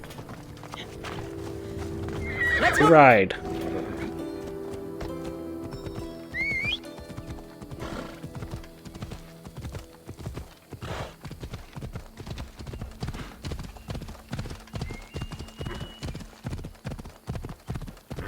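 A horse in the Assassin's Creed Odyssey video game whinnies loudly, then its hooves clip-clop in a steady, quickening rhythm that carries on to the end, with a brief spoken line near the start.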